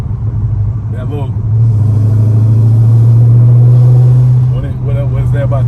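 The 392 Charger's engine, fitted with headers, revs to about 2,000 RPM with a deep, steady rumble that swells and holds for a few seconds, close by, while people talk over it.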